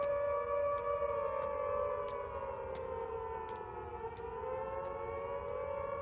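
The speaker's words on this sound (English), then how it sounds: "You could hear the sirens echoing off walls." A Coventry Blitz air raid siren wails steadily, its rising and falling tone carrying loud and continuous with a faint echo off city walls, no voices present.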